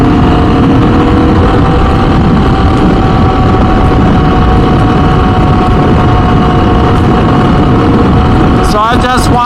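A motorcycle engine with its exhaust dB killer removed idles loud and steady with a low, throaty drone, while someone talks over it the whole time.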